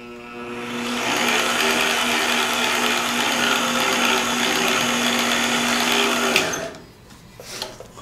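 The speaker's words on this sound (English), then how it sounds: "Reverse it and back that out of there." A VEVOR D8840 magnetic drill with variable speed runs steadily in reverse, backing a tap out of a freshly tapped hole with a loud, close mechanical whine that winds down near the end.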